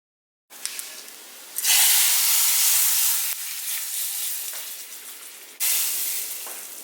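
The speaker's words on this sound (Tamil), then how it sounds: "இப்போ ஒரு 30 செகண்ட்ஸ் இதை நல்லா ஃப்ரை பண்ணதுக்கப்புறமா இப்போ இதை நம்ம ரசத்தில் கொட்டிடலாம்." Hot tempering of dried chillies and asafoetida in oil poured into rasam, for a wedding-style rasam, bursts into loud, steady sizzling and hiss that flares again near the end, with no talking.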